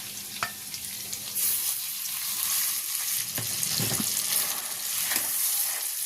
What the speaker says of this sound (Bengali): এবার এইগুলো ভালো করে নাড়াচাড়া করে ভেজে নেব